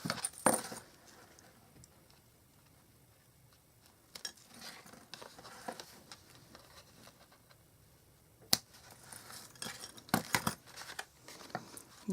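Scissors trimming ribbon ends while making a card with Stampin' Up products: a few quiet, sharp snips and small clicks scattered over a soft background, close up, with no talking.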